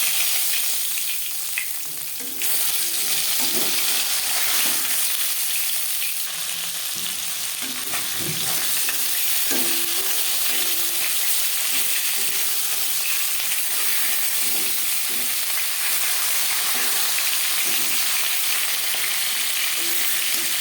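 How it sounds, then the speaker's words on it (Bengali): Loud, continuous sizzling of snakehead (shol) fish frying in hot oil, a dense crackling hiss throughout with occasional clinks and scrapes. "পরের মাছ একইভাবে ভেজে নেব"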